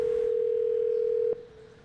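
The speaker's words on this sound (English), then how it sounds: "it was the phone call that was supposed to be a watershed moment for Google." A steady telephone line tone plays at the start of a phone call placed by Google's AI, holding level for over a second before cutting off into quieter line noise.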